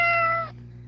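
A single drawn-out cat meow, close and clear, fading abruptly after half a second into quiet background hum.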